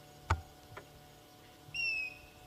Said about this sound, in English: That's a very special bird called a grey hornbill.